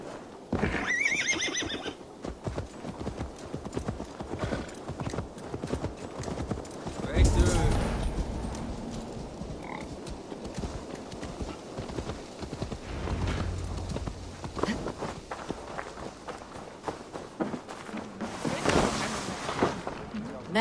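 A horse in Assassin's Creed Valhalla whinnies loudly, with hooves clip-clopping in a steady rhythm and wind and ambience around it; a voice speaks over parts of it.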